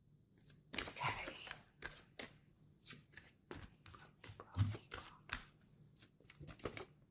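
Oracle cards being shuffled by hand in a tarot reading, a run of soft riffling and slapping bursts close by, with some faint talking mixed in.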